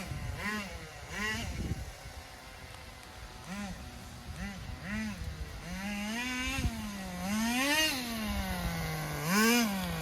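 A Thunder Tiger TS-4n nitro model car engine fitted with a plastic exhaust pipe buzzes and whines, rising and falling in pitch through repeated revs and blips, fairly loud and near.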